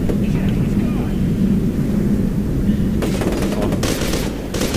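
Rapid machine-gun fire from the first-person shooter F.E.A.R. 2: Project Origin rattles in dense bursts over a heavy, loud rumble of game ambience, mostly in the second half.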